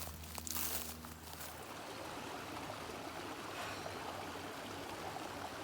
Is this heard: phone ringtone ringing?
no